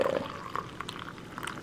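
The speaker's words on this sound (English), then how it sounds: "then I'll come back and pour a glass" Tea poured into a glass in a home kitchen: a soft, brief trickle of liquid, quiet and close, with a few faint splashy clinks.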